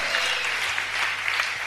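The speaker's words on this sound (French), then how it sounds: "Applaudissez plus fort" Audience applauding steadily at a youth retreat gathering, a dense continuous patter of clapping hands filling the room at moderate volume throughout.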